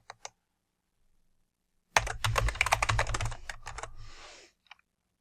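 Close-up typing on a computer keyboard while entering a Wi-Fi password for a WAVLINK AX3000 router: two quick clicks, a pause, then a dense two-and-a-half-second burst of rapid keystrokes ending in a few final taps.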